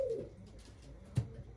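Soft, quiet cooing from racing pigeons, a low coo at the start and another brief call near the end against faint background noise.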